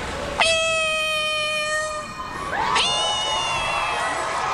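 A woman imitates a cat with her voice, giving two drawn-out, wavering meows back to back, loud and close, the second rising sharply before trailing off.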